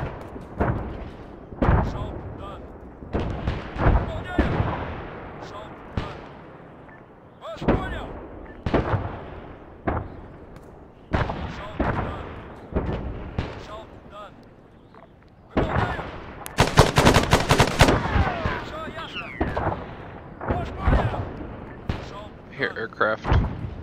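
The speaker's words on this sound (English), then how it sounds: "I'm on a mortar, and I know Dylan's got shit coming in too." Mortar and gunfire in a military video game during a counter attack on Kavala: repeated heavy booms and sharp cracks, some near and loud and some farther off, with a dense burst of firing midway and players talking over the battle.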